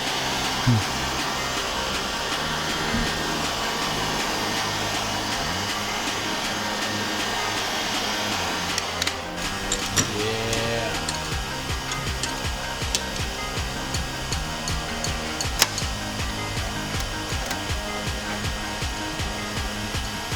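A heat gun's steady, loud blowing roar runs throughout as it heats sheet metal on a fender roller, with occasional metallic creaks and knocks rising over the constant hum.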